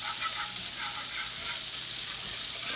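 Flour fries in hot oil in a pan as the base for gravy, a steady dense sizzle of bubbling fat running continuously at close range with no talk.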